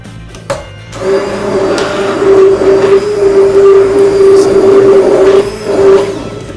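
A steady motorized whir runs for several seconds after a brief lead-in, holding a constant pitch with slight fluctuations, like a kitchen blender mixing.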